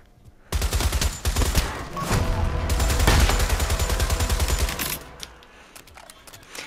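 Rapid automatic gunfire from the VR shooter game Pavlov, loud and near, with a long dense burst of repeated shots that trails off into quieter scattered noise.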